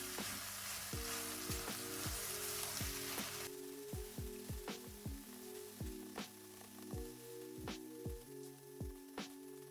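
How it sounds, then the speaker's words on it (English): Minced meat for a village-style Bulgarian moussaka frying in a pan, a steady close sizzle with repeated sharp clicks and scrapes of stirring throughout, no voices. "now we just want to fry that off till it's fully cooked"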